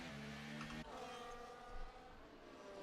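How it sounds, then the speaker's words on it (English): Race cars in a sim racing game at a Hungary round, engines droning steadily with harmonic whine throughout, a sharper rising burst near the end, loud and continuous. "the cars are screaming a bit in my ear"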